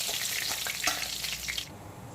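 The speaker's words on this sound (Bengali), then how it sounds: "আর বাকি যে মাছের পিসগুলো রয়েছে লবণ আর হলুদ মাখানো, সেগুলোকেও আমি একইভাবে এখন ভেজে নেব" Rohu fish pieces rubbed with salt and turmeric sizzle loudly in hot oil, a close, crackling fry with some stirring that cuts off abruptly near the end, leaving quiet.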